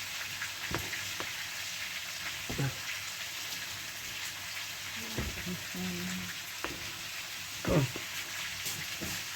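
Constant crackling sizzle of meat frying in a pan, with a few sharp clanks and scrapes of utensils scattered through; no speech.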